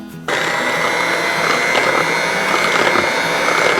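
An electric mixer whirs steadily and loudly through cobbler batter of self-rising flour, sugar and milk, switching on abruptly and holding a constant motor drone with no talking.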